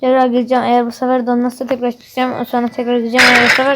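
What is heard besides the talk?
None of the usual background noises is heard.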